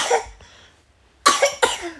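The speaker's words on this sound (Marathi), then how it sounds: "खूप खोकलत होती" A person coughs in a few sharp, close bursts: one at the start, then a pair of harsh coughs after a quiet gap, loud and alone without talk.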